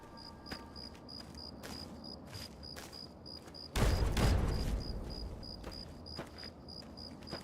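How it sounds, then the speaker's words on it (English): A single deep, rumbling blast erupts midway through a quiet video game wasteland, its roar decaying over a second, set against a steady chirping of crickets and faint insect ambience. "That was 2 explosions."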